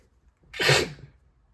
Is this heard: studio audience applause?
no